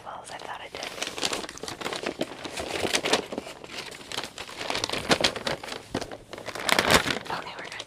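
Wrapping paper crinkles and rustles as Christmas presents are wrapped, a steady close-up crackle with brief louder crunches, under soft whispering throughout.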